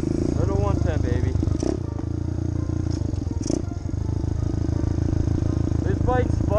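A Kawasaki 110cc pit bike engine idles and putters with a rough, rapid thrum, close and steady, while someone talks over it intermittently.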